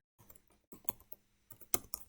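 Quick, light keystrokes on a computer keyboard, a short run of soft clicks with a couple of sharper taps near the end, quiet and close.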